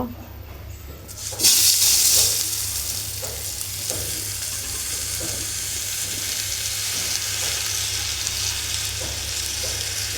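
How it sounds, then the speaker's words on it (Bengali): Washed polao rice hits hot ghee in a biryani pot and bursts into a loud sizzle, settling into a steady frying hiss with faint stirring scrapes throughout. "আমি কিছুক্ষণ চালটা একটু ভেজে নেব"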